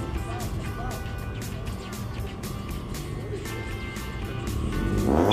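A Scion car with a manual gearbox launches on a quarter-mile drag run, a loud engine roar building steadily and swelling toward the end, with a voice speaking over it.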